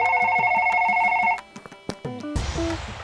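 A telephone rings in a Hindi TV serial scene, a short electronic ringtone heard close and clear for about a second and a half before stopping, followed by brief clicks and rustling noise.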